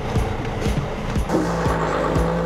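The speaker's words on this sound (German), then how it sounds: "Die LKWs fahren einer nach dem anderen auf die rollende Landstraße" Trucks rolling onto rolling highway rail wagons at the Wörgl terminal on the Brenner route, a loud continuous engine and road rumble with rhythmic thumps as wheels cross the wagon joints.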